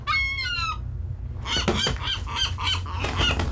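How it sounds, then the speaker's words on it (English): A one-eyed seagull cries in a film scene, giving a harsh rhythmic series of nasal squawks, then a burst of loud raucous calls over a low rumbling background. "It's a one-eyed seagull."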